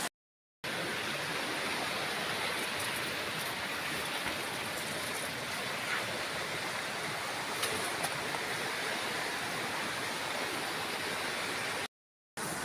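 A mountain river in the Philippines rushes steadily during a crossing, a loud continuous broadband roar of flowing water with no talking.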